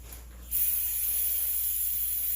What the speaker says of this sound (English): Let me get a can of brake cleaner.